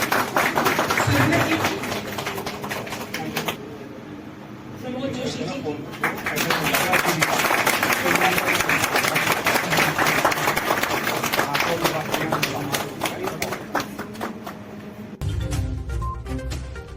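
Applause from an audience at a Corona warriors honour ceremony held by Nulife Hospital and the Brahma Kumaris, where doctors, nurses and staff receive medals; dense, sustained clapping that dips briefly before resuming, with voices over it.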